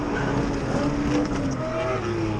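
A drift car on a track revs hard, its engine note climbing and rising through gears with some tire noise, loud and close under brief spoken coaching.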